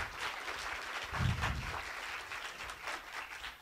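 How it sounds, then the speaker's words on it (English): Audience members at an Illinois College presentation applaud the IT staff, a fairly faint, distant wash of clapping that holds steady throughout. "give them a big round of applause"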